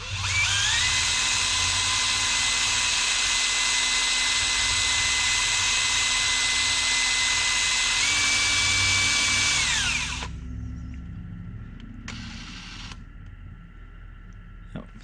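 A gold coin ring, made from a 1 oz gold Double Eagle coin, sanded with sandpaper on a spinning rotary tool: a loud, steady high whine for about ten seconds, then it winds down to a quieter hum.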